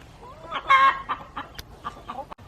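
Buff Orpington and Dominique chickens in a Louisiana yard cluck in short, close, uneven bursts, with one sharper squawk amid quiet pauses.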